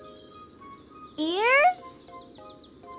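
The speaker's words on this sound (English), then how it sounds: "The next clue is to go to a bush where the birds are singing." Small cartoon birds singing in a bush: a quick rising whistled chirp stands out briefly against a faint background, and a voice speaks just before it.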